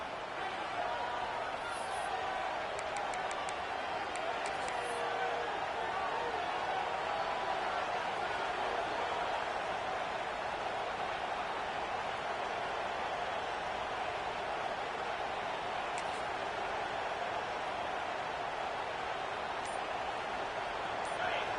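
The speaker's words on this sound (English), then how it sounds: "This crowd bringing the energy and noise early" A dense, steady roar of a large stadium crowd in a college football video game, continuous and unbroken with a few faint higher chirps on top.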